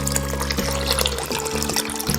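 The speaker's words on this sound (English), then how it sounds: "Now I'm going to add 5 more cups of water." Water poured into a crock pot holding dried black beans, a steady filling splash running continuously and fairly loud, with no talk.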